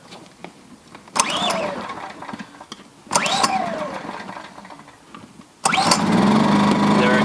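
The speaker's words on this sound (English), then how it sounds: "I'm going to show you guys exactly what to do after you start pulling on the actual starter" A Predator 2000-watt inverter generator is pull-started three times, each yank sending the small engine sputtering up loudly before it dies back, with the final pull catching and settling into a steady close running note.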